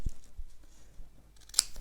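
A single sharp snip of scissors cutting through material, near and distinct, following a few soft handling sounds in a quiet room.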